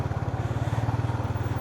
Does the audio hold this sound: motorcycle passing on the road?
yes